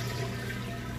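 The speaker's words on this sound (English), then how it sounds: "You can hear it draining that water out nice and fast." Whirlpool HE washing machine pumping out its wash water at the end of the wash cycle, a steady, dense rushing and gurgling drain that stays constant for the whole second with no pauses.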